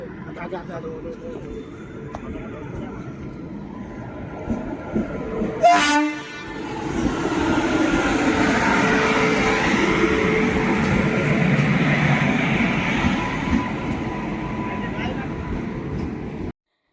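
A train rumbles steadily along the tracks, with a brief loud horn blast early on before the running noise swells and holds.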